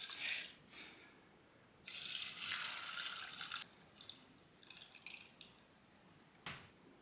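Water runs and splashes into a metal pan in several bursts, with gaps between pours and faint clinks, no talking.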